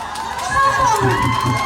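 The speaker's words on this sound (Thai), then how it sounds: "ขอบคุณเสียงปรบมือครับ" Audience at a live stage show bursting into applause and cheers, a loud crowd roar rising partway through and holding, with voices mixed in.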